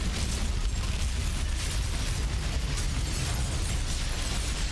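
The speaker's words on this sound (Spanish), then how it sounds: "¿A que suena así la demolición?" Building demolition in the video game The Universim: a dense, continuous crumbling rumble with popping bursts, steady and loud, with no talk.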